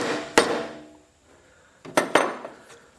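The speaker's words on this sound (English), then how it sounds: "took a little soft blow hammer there and just made sure that they were in tight" A few sharp metallic taps from a small soft-blow hammer seating front strut parts on a Kubota Sidekick utility vehicle, one strike then a quick pair after a pause, each ringing briefly in a quiet space.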